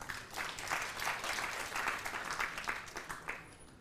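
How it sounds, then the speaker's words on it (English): An audience applauds at an international open university conference in Shanghai, a continuous, moderately distant patter of many hands with gentle swells in loudness, no voices over it. "I want to clap for this university."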